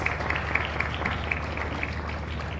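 An audience applauds at a Junior Eurovision Song Contest press conference in 2018, a moderate, even patter of clapping from a modest crowd.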